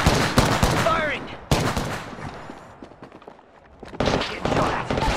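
Bursts of video game gunfire crack out in short volleys at the start and again near the end, with a quieter stretch between them. The shots are loud and close, and a voice talks over them.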